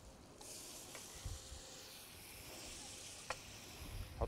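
Shrimp and tomatoes cook in a hot pan with a steady, quiet sizzle and hiss, broken by a few soft stirring clicks and scrapes near the end.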